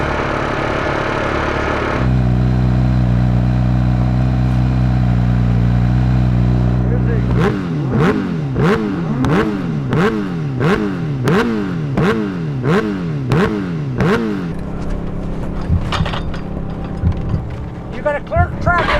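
A race car on a world-record top-speed attempt pulls away at the start, its engine climbing in pitch again and again through a rapid series of gear changes, loud and close after a steady idle, with people talking around it.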